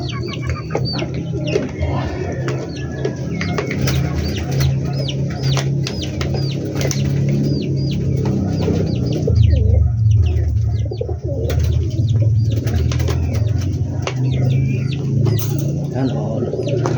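A flock of backyard chickens clucks and calls continuously in hot weather, with overlapping coos and bird chatter close by, a steady dense murmur, and a person talking over it at times.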